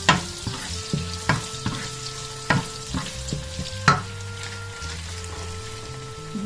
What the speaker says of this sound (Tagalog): Gisa ko na yung sibuyas.